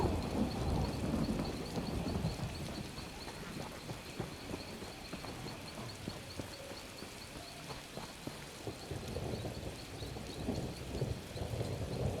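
Steady heavy rain with rolling thunder from a lightning spell in the Elder Scrolls Online video game, a dense continuous wash of downpour that holds for the whole stretch.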